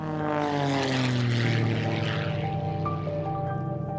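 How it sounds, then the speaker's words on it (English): Propeller airplane engine holding a steady, loud drone with rising and shifting harmonic tones as the aircraft starts its takeoff run, continuous with no talk. "We've been cleared for takeoff."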